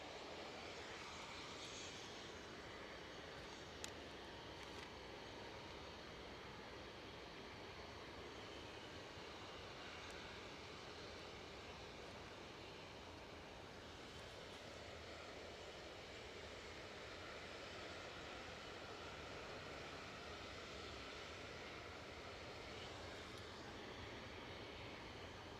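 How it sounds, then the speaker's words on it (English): A Ryanair airliner arriving from Malaga rumbles at Aberdeen airport. The drone is steady, distant and broadband and holds for about 25 seconds with no talking. "Ryanair from Malaga, says Zach"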